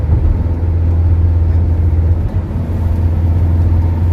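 A Toyota Commuter van, swapped from its original petrol engine to a diesel, drives along with a steady low road rumble and a subdued, fairly quiet engine tone from inside the cabin.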